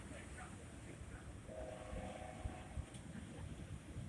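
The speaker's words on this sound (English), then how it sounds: "I think the train might be coming to a standstill." A train with a caboose rolls along a double-track rail line, a continuous rumbling passage with a brief high tonal squeal or horn-like note partway through, heard from nearby with faint talk in the background.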